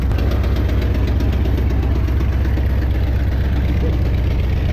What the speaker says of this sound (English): She's back going. 73 Mach 1, big block 460, small cam, stock heads for now.